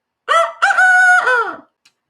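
A person vocally imitates a hen, letting out a loud, drawn-out nasal squawk with warbling pitch, close up and alone.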